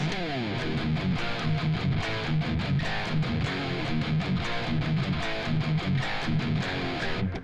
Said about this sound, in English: then we kick into just like a power chord version of that riff